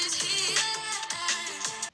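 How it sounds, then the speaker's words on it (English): A short drum and bass music excerpt with punchy kicks, snappy breakbeat snares and dense bright synth layers over a low bassline, played loud and steady with no voices. "DnB stands for drum and bass. It's a genre of music and it sounds like this."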